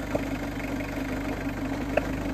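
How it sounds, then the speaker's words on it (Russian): A Fiat Scudo van engine idles close by in a steady, even hum, with a couple of light knocks breaking through. No one speaks. "Короче, мотор работает хорошо."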